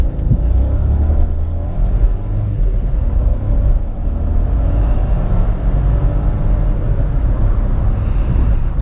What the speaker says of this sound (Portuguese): eu vou poder mostrar para vocês como é o desempenho elástico desse motor